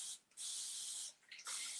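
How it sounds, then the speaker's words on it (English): A spray bottle mists water onto chalk mineral paint in two short hissing bursts, close and clear. "just go a little closer with the spray bottle to get it to move a little more"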